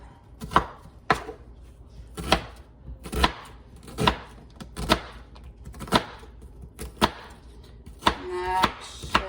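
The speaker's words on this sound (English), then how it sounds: "We are going to make slits sideways and then matchstick cuts on the top." A knife dices an onion on a cutting board with slits and matchstick cuts, giving sharp, evenly spaced chops close up, roughly one per second, with a few quicker taps near the end.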